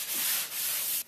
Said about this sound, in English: I'm going to hit it with the sanding sponge